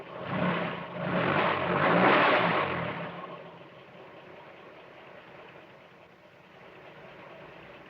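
Trumpton fire engine from a children's animated series driving off, a loud engine rumble for about three seconds that then drops to a quieter, steady running drone.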